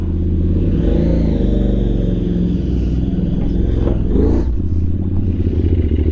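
A QJMotor SRT 600 SX Touring motorcycle with an inline twin-cylinder engine runs close by, loud and throaty, its pitch rising and falling through a couple of revs with some mechanical clatter.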